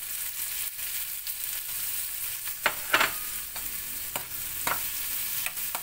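Clams dropped into a pan of fried rice set off a steady low sizzle, with several sharp scraping stirs and clatters of the utensil breaking through the frying hiss.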